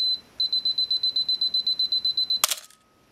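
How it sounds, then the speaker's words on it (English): A Canon AE-1 Program camera self-timer beeps high in quick, steady pulses, then a sharp mechanical shutter click ends it, followed by silence. "there we hear it counting down, and it will start beeping faster"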